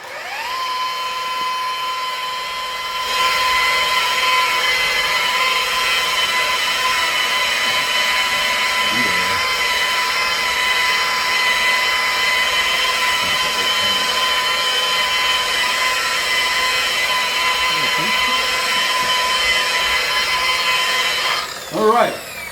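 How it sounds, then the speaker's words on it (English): Electric polisher buffing a granite countertop dry, a steady loud high-pitched whine that spins up at the start and holds for about twenty seconds before winding down, with faint scraping contact sounds underneath. "I'm going to buff this stone dry."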